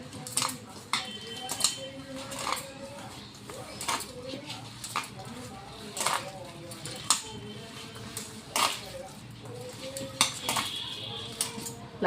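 A spoon clinks and scrapes against a bowl at an uneven pace while coriander, cumin powder, salt and sambar masala are stirred together for a cabbage dubuk vade curry. The clinks are close but fairly soft, and a voice talks faintly underneath.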